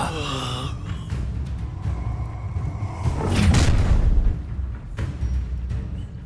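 An Incendio fire spell bursts in a Harry Potter video game, a swelling fiery whoosh and rumble peaking mid-clip amid other combat effects and sparkling magic tones, with game voices around it.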